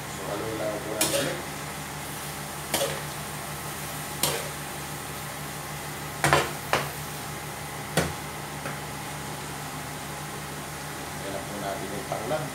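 A utensil stirs squid adobo with coconut milk in a pan, giving a string of sharp scraping clicks at irregular intervals over a low, steady sizzle, with a person talking at times.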